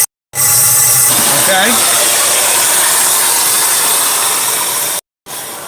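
Loud, steady hiss and rumble from an engine cylinder and throttle body during a diagnosis, heard close up and continuous with a brief cutoff near the end, while someone speaks briefly over it.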